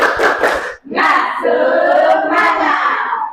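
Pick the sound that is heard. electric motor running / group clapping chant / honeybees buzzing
group clapping chant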